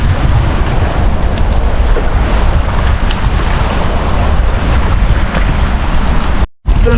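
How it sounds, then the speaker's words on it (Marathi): Strong wind roars over the microphone aboard a boat at sea during crab hunting, a loud, continuous buffeting rush with no speech, cutting out briefly near the end. "जाम वारा असतं."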